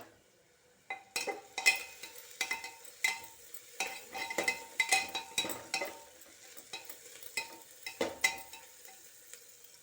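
Ground mint, coriander, ginger and garlic paste sautés in a pressure cooker, with a steady, close sizzle broken up by repeated scraping and stirring strokes of a utensil against the metal.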